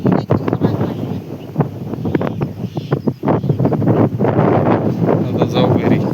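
Gusty wind buffets the microphone outdoors on a farm, loud rushing bursts rising and falling irregularly throughout, with brief pauses between gusts and a faint rustle.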